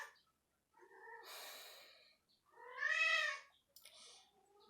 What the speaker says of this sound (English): Mama Dark is always sleeping beside the box, so I think she feels that something wrong with her kitten